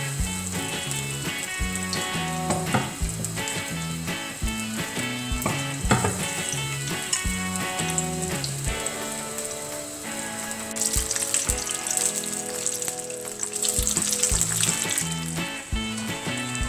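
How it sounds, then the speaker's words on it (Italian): Continuous crackling sizzle of Apulian-style batter-coated mushrooms deep-frying in hot oil, with rhythmic background music playing throughout and the fizzing growing brighter toward the end. "andiamo a friggere i funghi in pastella"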